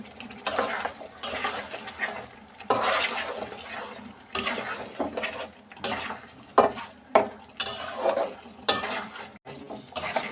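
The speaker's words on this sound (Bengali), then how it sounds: "এখন এটা ভালো করে নেড়ে চেড়ে নিব।" Spinach paste and broiler chicken are stirred in a pot, with repeated bursts of spoon scraping against metal, brief pauses between strokes and a faint sizzle underneath.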